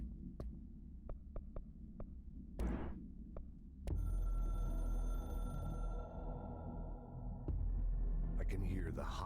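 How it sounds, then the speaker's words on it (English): A hotline phone rings inside the video game Control, with a repeating tonal ring sitting among low throbbing hum and game ambience, fairly loud and steady through the middle of the clip. "I can hear the hotline ringing in my dream."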